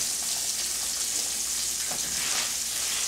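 A piece of fish searing in a hot cast iron pan gives a steady, loud, even sizzle that continues throughout without a break.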